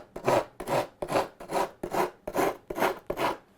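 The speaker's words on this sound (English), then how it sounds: "continue to rasp the edge and bring it down tight" A coarse rasp files the edge of a wooden song stick in eight evenly spaced, close, scratchy strokes with short pauses between them, and no one speaks.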